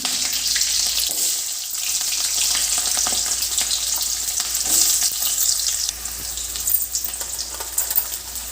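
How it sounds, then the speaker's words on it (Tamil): Mustard seeds, lentils, chilli, onion and garlic fry in hot oil in a pan, a loud continuous hiss and sizzle with light stirring scrapes close by. "ஒரு வாணலியில் கொஞ்சம் ஆயில் ஆட் பண்ணி அது காஞ்சதும் கடுகு உளுந்தம்பருப்பு ஆட் பண்ணி"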